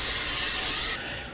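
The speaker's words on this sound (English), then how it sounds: "I'm going to take this tin and I'm going to coat it with some cooking spray" Cooking spray hissing steadily from an aerosol can onto a muffin tin, a close, loud burst of about one second that cuts off abruptly.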